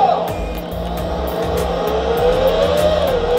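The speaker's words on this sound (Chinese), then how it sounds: "我们就挑一个赛车的游戏给大家做一个测试哈" A racing car engine in a mobile racing video game, controlled with a Flydigi Black Knight 2 gamepad, revs continuously with rising and falling pitch and a brief tire squeal, loud and steady throughout.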